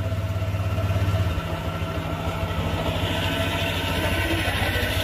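A Honda Vario 125 motor scooter engine runs at a steady idle, close and continuous, with an even low rumble throughout and a brief heavier pulse near the start.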